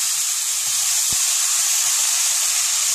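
Onions fry in a pan with a steady, loud, broadband hiss, while a single soft knock of stirring briefly interrupts the continuous sizzle.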